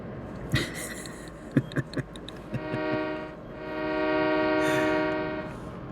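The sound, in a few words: loaded train moving, from video game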